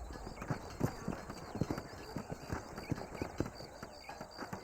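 Horses' hooves in the Red Dead Redemption video game clip-clop in a steady, rhythmic trot at moderate volume against a faint outdoor background, with the galloping beats repeating evenly throughout.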